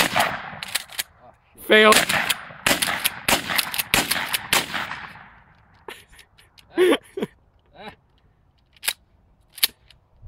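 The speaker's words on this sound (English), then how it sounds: "I'm shooting at the trees." Gunfire aimed at trees outdoors, with rapid bursts of sharp, close shots in the first half and a few scattered cracks later, with people talking and exclaiming between them.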